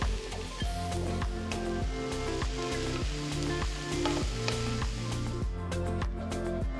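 Carrot, beans and peas sautéing in a pan for cauliflower rice, a steady sizzle running throughout beneath prominent rhythmic background music, with no talking.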